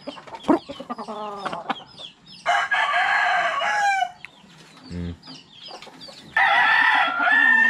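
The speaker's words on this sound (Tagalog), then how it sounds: "puro manok iyan mga kasisid" Chickens, roosters and chicks at a farm with many coops, clucking loudly and close, with two long rooster crows breaking through amid scattered cackles and chirps.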